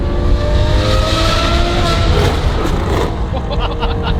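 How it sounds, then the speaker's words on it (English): A Ferrari F12 twin turbo fitted with an aftermarket exhaust revs hard and loud, its engine note rising and holding in a steady, raspy roar, with a voice talking over it. "I can't believe that you can just bolt an exhaust onto this car and it sounds like that."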